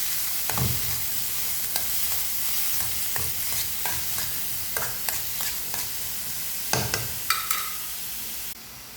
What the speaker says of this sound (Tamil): வெங்காயத்தை கொஞ்சம் டைம் எடுக்கும் நல்லா வதங்கி வரட்டும் பொன்னிடமாக